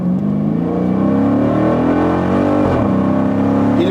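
Dodge Challenger SRT8 with an automatic torque-converter gearbox under hard acceleration, a loud close V8 roar climbing steadily in pitch, with a brief shift dip before it pulls again.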